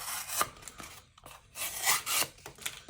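A budget Azusa Blad folding knife slicing through material, producing a run of close, scratchy rasping strokes with short gaps between them.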